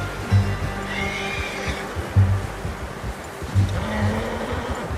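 A horse in the video game Red Dead Redemption 2 whinnies several times in short bursts over a steady low rumble and background noise, with no talking.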